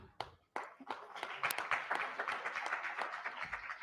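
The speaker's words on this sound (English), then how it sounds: "A round of applause for all our dignitaries, please." An audience claps for dignitaries at a CSR Research Foundation event, starting with a few separate claps and building into steady, moderately distant applause.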